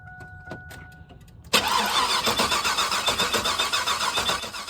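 A car engine cranks and catches at about a second and a half in, then keeps running with a rough, pulsing idle, close and fairly loud, on a home-built car that sprays fuel unevenly.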